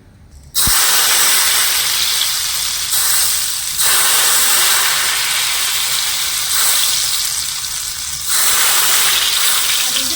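Batter for a sweet dropped into smoking-hot oil, frying with a loud, steady broadband hiss and sizzle that starts abruptly and swells in waves as more batter goes in.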